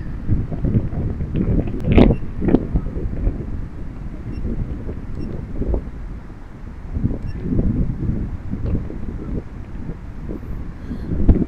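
Strong gale buffets an outdoor microphone with low rumbling gusts that swell and ease throughout, one sharper bump near the start, while an FPV drone is readied in the windstorm.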